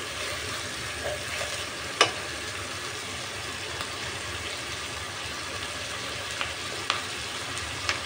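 Chicken sautéing in a pan, a soft continuous sizzle with a few faint clicks and scrapes of stirring, close and fairly quiet with no voices.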